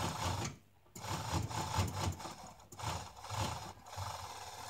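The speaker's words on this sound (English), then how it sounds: "running the machine off to the edge" Overlocker sewing machine stitching and trimming along a fabric edge, a fast close rhythmic whirring chatter in several bursts with brief pauses between them.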